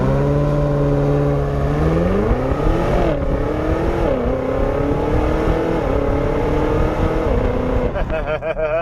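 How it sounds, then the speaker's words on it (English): A 2023 BMW XM surges at full throttle, its engine note climbing steadily and dipping briefly as the automatic transmission shifts up on its own, loud and close from inside the cabin throughout. "just flooring it and letting it shift it by itself"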